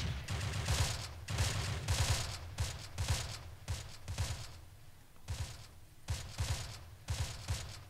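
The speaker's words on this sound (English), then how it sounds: "Can you like fire upon that?" Gunfire in the Close Combat video game comes as repeated bursts of rattling shots in uneven clusters, loud and steady for several seconds, with no talk over it.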